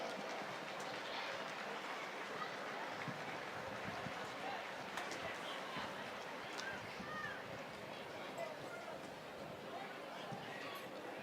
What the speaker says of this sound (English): Everybody give a round of applause there.